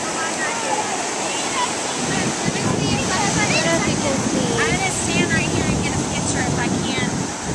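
Big ocean waves at a California beach in the evening, a continuous rushing surf roar with wind buffeting the microphone, plus scattered voices of people nearby.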